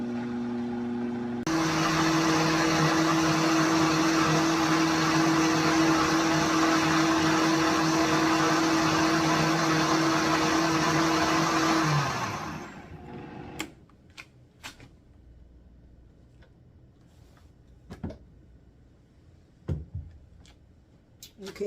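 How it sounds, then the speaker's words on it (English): Electric blender pureeing cooked hot sauce, a loud steady motor whir that runs for about ten seconds before winding down, followed by faint clinks and handling noises. "I decided to put it in this blender to blend it down because it'll blend down better"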